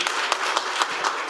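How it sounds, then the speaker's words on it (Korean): An audience in a lecture hall applauds a well-known guest speaker with a short, steady spatter of clapping at moderate distance, without voices. "큰 박수 부탁드립니다"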